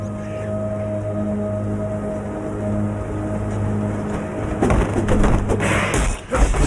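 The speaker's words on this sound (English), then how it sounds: "With these packs of birds diving down to attack me like this" Birds in the Aqueducts area of the Path of Exile video game dive to attack, heard as steady cooing bird calls over a droning ambient bed, building into a louder flurry of flapping and hits near the end.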